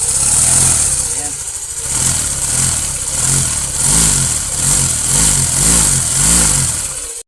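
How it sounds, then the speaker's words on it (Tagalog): A car engine at 100,000 km on the odometer, being checked during an oil change, revs up and down in repeated rhythmic surges over a steady idle, close and loud. "I-rev natin konti. Tignan natin gaano kalakas yung flow."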